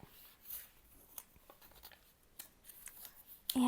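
Scissors snip through a foundation paper pieced quilt block in a quiet room, a few soft, brief cuts spread apart, with a louder rustle of paper handling at the very end.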